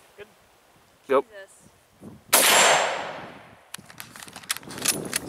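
People talk briefly, then one loud, close rifle shot from a 1927 Mosin Nagant booms across an outdoor range and rings out slowly, followed by clattering handling noises.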